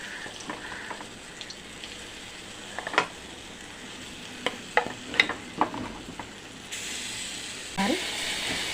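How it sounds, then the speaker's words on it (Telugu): Constant frying sizzle with a spoon scraping and clicking against the pan as thick ground chickpea paste is stirred, getting louder toward the end. "చూసారా అక్కడ వేసి కలుపుకుంటా"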